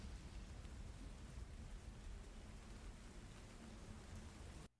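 Steady, dense rain pours down throughout a thunderstorm, a constant broadband hiss with a low rumbling undertone, holding at an even level for the whole stretch before cutting off abruptly at the end.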